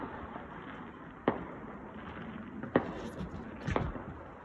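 New Year fireworks go off in the distance, three separate sharp bangs spaced over a few seconds, each ringing briefly above a low, faint outdoor rumble.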